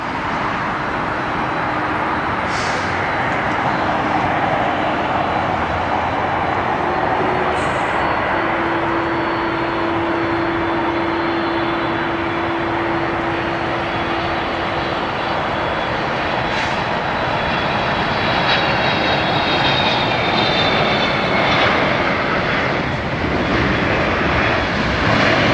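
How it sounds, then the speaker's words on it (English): A Boeing 777 freighter arriving from Taipei lands at LAX, its engine roar loud and steady for the whole stretch with a drawn-out tonal whine, broadband jet rumble filling the air and no talking. "Coming in from Taipei at 777 freighter."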